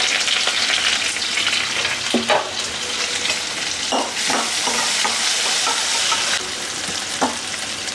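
Chopped onion, curry leaves and a pinch of asafoetida frying and being stirred in a pan for jackfruit bhaji, a steady loud sizzle broken by scraping stir strokes throughout, with no talk.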